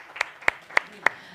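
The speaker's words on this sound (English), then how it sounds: "Receive a very warm applause from here" At the Huawei Digital Talent Summit in Barcelona, hands clap five times in a slow, even rhythm, each sharp clap standing alone against quiet room tone.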